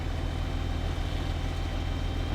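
A truck in the Spintires: Mudrunner video game, with permanent diff lock and low range, spins its back wheels with a steady, loud, low engine drone and rumble that runs continuously without talk.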